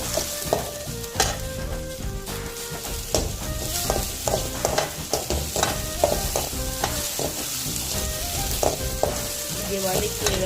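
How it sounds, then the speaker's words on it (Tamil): Tomatoes being sautéed in a pan for a Tamil eggplant, cabbage and coriander dish, with a steady sizzle broken by repeated scraping and stirring clatter close by, plus occasional tonal pings from utensils. "தக்காளி போட்டு அதையும் நல்லா வதக்கணும்."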